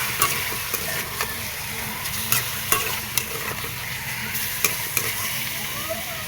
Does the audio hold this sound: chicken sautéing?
yes